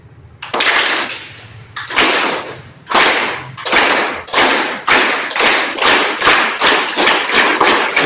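A school class imitates a train, bursts of hand taps and claps that speed up from slow separate swishes into a quick steady chugging rhythm.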